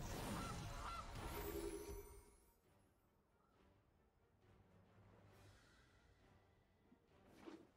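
Goose honks from the Gilded Goose card in MTG Arena, a burst of loud, nasal honking calls with a whooshing sweep at the start, then quieter chatter and a final short honk near the end.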